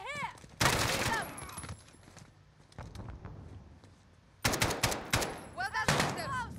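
Loud automatic gunfire from the video game Call of Duty Modern Warfare erupts in two heavy bursts separated by a quieter stretch with scattered shots, and voices shout during the firing.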